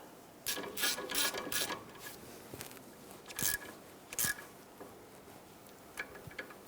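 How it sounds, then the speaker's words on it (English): A hand ratchet snugs down exhaust manifold bolts on a 1999-2004 Jeep Grand Cherokee 4.7L V8, giving several short bursts of fast metallic clicking with brief pauses between strokes, close but fairly quiet, with no talk. "we're just going to snug this down with our hand ratchet"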